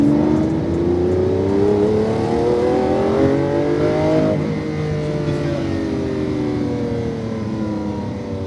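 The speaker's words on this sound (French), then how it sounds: "Ok, on débraque, on accélère." A 740-horsepower sports car accelerates hard on a racetrack, its loud close engine note climbing steadily in pitch, dropping at a gear change and then rising again.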